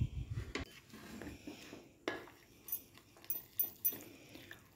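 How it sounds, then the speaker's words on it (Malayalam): Batter with turmeric, baking powder and salt is mixed by hand in a bowl for fish-stuffed cabbage rolls, giving soft wet squelches and irregular clinks and scrapes of utensil against dish, fairly quiet and close. "നമുക്കിത് ഒന്ന് കുഴച്ചെടുക്കാം."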